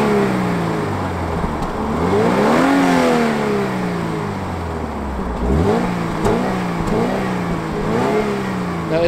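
A Subaru BRZ engine with its stock exhaust revs up and settles through the gears, a smooth mid-pitched drone heard from inside the cabin, rising and falling steadily with no talk.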